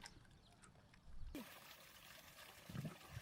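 Water poured for a bath trickles and splashes close by in short, uneven bursts, with a faint voice briefly in the background.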